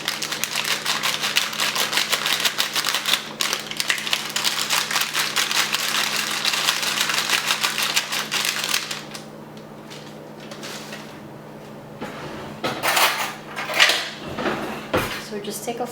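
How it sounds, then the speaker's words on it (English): A fork scrapes and clinks quickly against a bowl, mixing ingredients until they dissolve while making Filipino pancit bihon, with steady rapid tapping for several seconds, then quieter pauses and a few scattered clatters. "So we're going to take a fork and mix it."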